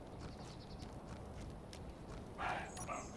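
A small pony's hooves clip-clop briefly at a walking pace in Space Engineers, fairly close, with a game-like ambience behind.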